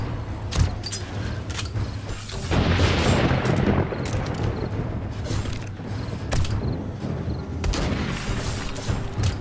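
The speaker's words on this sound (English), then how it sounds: "I need to shoot now." Gunfire in the video game 7 Days to Die: rapid, loud shots fired in uneven bursts, some overlapping into dense rattling volleys, with no talking.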